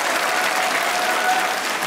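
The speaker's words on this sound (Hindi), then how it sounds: "और ताबिश के लिए भाई बहुत ज्यादा तालियां।" Studio audience applause for the host of a Hindi-Urdu comedy show, a loud, dense, continuous burst of clapping close to the microphone, brief and even throughout.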